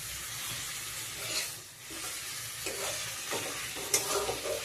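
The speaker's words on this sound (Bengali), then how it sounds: "ডিম দিয়ে আলু দিয়ে একটা তরকারি করছি" An egg and potato curry cooks in a pan with a soft, steady sizzle, interrupted now and then by the scrape and clatter of stirring, close by and with no talk.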